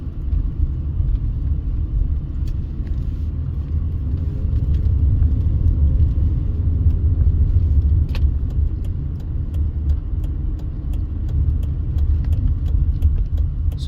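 A car drives down Park Street on the east side of Las Vegas, its steady low engine rumble and road noise filling the whole stretch close up, with small interior clicks and rattles on top.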